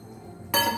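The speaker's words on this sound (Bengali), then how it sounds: "এবারে অল্প করে জল দিয়ে দেব" A little water goes into a hot pot of old-style elephant foot yam curry. After a quiet moment, a sudden loud, close hiss and splash bursts in and carries on to the end.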